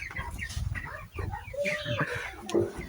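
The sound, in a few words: chickens clucking on a chicken farm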